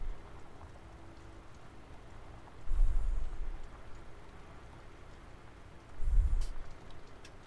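Rain falls steadily in the farming video game Landwirtschafts-Simulator 17, a soft even hiss broken by two deep rumbling swells a few seconds apart.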